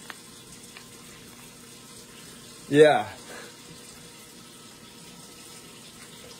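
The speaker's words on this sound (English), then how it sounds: "I use hot water." Hot water runs briefly from a kitchen tap to thaw frozen Bird's Eye garlic parmesan cauliflower wings. It is a single short gush of about half a second in an otherwise quiet room, with a brief spoken word nearby.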